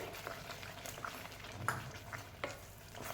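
Paneer curry gravy frying in a pan, a steady soft sizzle and bubbling with occasional small pops and stirring clicks, quiet and close with no talk.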